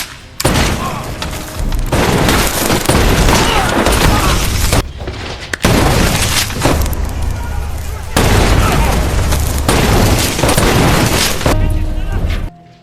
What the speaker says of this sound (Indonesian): De Rosa datang dengan tembakan naganya yang membuat semua penjaga terbunuh